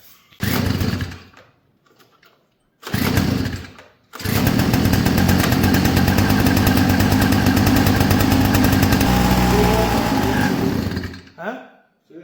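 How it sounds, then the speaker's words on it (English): A small mini motorcycle engine, primed with fresh fuel poured into the spark plug hole, coughs in two brief loud bursts, then catches and runs roughly for about seven seconds before dying away. "so fired up a little bit there with a bit of persuasion from some fresh fuel directly into the spark plug"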